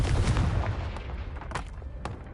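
A Confringo spell blast from the game Hogwarts Legacy, a loud booming impact with several sharp cracking bursts and rumbling echoes scattered across the moment.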